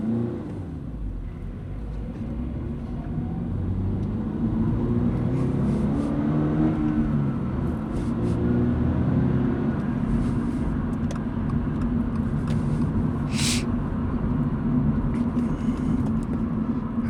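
A Toyota GR86 with a manual gearbox is driven on the road, its engine humming and revving through gear changes over a steady low rumble of road and cabin noise, with no talking.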